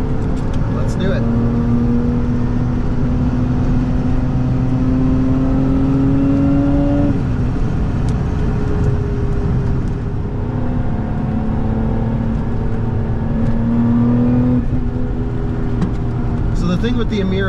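A Lotus Emira V6 with a manual gearbox pulls hard through the gears on a winding road, its engine note rising in long sweeps, dropping briefly at each shift and climbing again, steady and prominent throughout with no talking.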